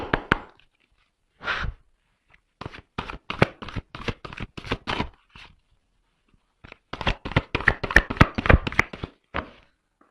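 Oversized cards, nearly hand-sized, are shuffled in clusters of quick, close, crisp riffling taps, with a pause in the middle and a longer dense burst near the end.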